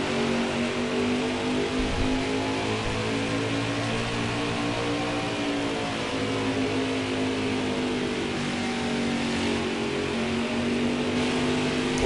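NASCAR Camping World Truck Series trucks racing at Phoenix Raceway during the season-finale championship race, a loud continuous roar of many engines with shifting pitch as the pack runs, steady throughout with no talk.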